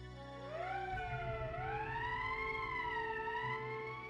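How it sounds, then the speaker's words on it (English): A wailing emergency siren in the video game Valkyria Chronicles, rising and sweeping in pitch, moderately loud and continuous, with a low rumbling background beneath it. "That's the emergency siren."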